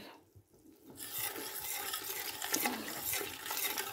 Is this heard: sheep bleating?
no